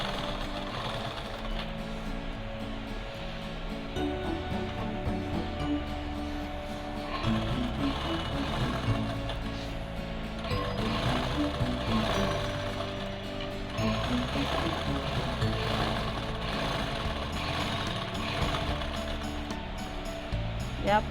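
A sewing machine stitches quilted cloth for a bag, its needle clattering in fast, steady mechanical bursts with brief pauses between runs, close and fairly loud.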